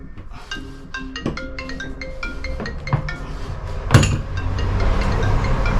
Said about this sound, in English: There you go, phone's ringing.